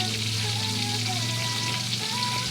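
Pisaw-pisaw fish frying in a pan, a steady close sizzle and crackle of hot oil running unbroken throughout with no talk.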